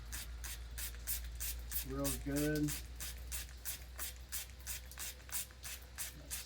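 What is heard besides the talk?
spraying liquid from a bottle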